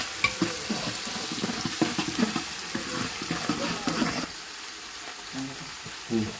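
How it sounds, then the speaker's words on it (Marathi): Onion frying in a pan with ginger-garlic paste, a steady sizzle under rhythmic stirring scrapes that quiets partway through, recorded close with no clear speech. "कांदा टाकून घेतोय आता कांदा चांगला फ्राय होऊ द्यायचा आहे"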